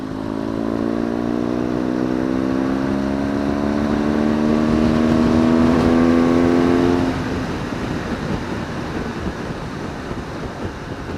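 A BMW R1200GS motorcycle engine accelerates hard in top gear, a loud steady drone whose pitch climbs smoothly for about seven seconds before easing into a rougher, noisier rumble as it keeps running.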